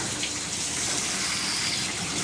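Steady running water gushes continuously during a cat's bath, like a tap flowing into a tub, with a constant broadband hiss and no voices.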